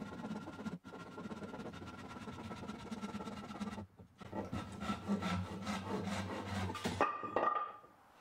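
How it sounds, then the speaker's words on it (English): A Zebrawood board is cut by hand with a saw, giving steady rasping strokes that run almost without pause, one brief break near the start and a longer gap midway, close and alone with no talk. "so I ended up cutting it by hand"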